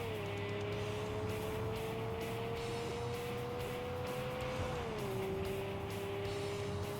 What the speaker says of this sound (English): that car doesn't sound normal either.